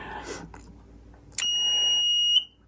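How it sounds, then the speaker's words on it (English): A TCAD-1 temperature controller sounds its low alarm, a piercing, steady electronic tone that holds for about a second before cutting off, preceded by faint handling noise. "I just set the low alarm to 70, so that's why it's alarming"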